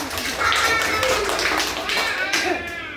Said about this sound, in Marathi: टाळ्या वाजव दर्पणासाठी.